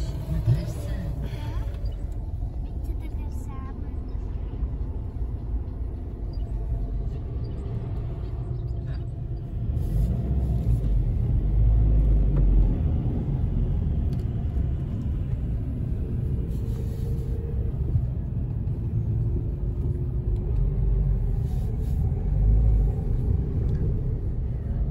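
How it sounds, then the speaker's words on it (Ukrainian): A car crawls through a night traffic jam caused by roadworks, with a steady low engine and road rumble throughout and a voice faintly audible over it. "Потрапили в затор."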